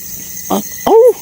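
Two loud barks ring out against a quiet night background of insects: a short harsh burst, then a longer, louder call with a falling howl-like tail, with no talking over them.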